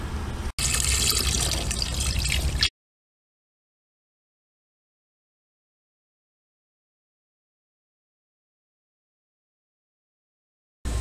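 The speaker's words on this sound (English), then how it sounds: "And I'm going to go ahead and pour the second batch to the skimmer." Perlite filter media slurry is poured into a pool skimmer, giving a loud gushing water rush for about two seconds, then a long silence before a brief return of the flow.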